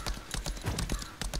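Horse hooves clip-clopping in a quick, even rhythm as a character rides in the video game Lost Ark, close and clear with no talk.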